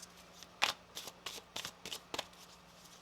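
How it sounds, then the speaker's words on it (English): A tarot card deck being shuffled, a run of crisp riffling bursts in quick irregular succession, close and fairly quiet with no talk. "One more shuffle."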